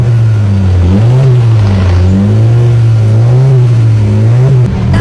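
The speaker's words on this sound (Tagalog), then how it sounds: "Ito yung sound nung hindi pa natin tinatanggal yung resonator." Car exhaust with the resonator still fitted, revved hard up close: a loud, steady engine drone rising and falling in smooth waves of revving, with no voices over it.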